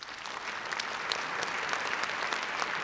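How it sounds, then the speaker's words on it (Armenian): Steady applause from the audience at a national music awards ceremony, a dense, even patter of many hands clapping at moderate distance with no pauses, heard on its own. "Այո, կարծում եմ արժի ծափահարել"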